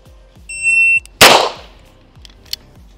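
A shot timer beeps, then a single sharp pistol shot cracks loudly and rings out briefly during a shooting drill, followed by quieter outdoor ambience.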